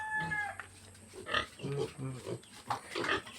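Pig grunts from a farm pen with a newborn litter of piglets, several short low grunts in a loose irregular series at moderate distance, with people talking nearby.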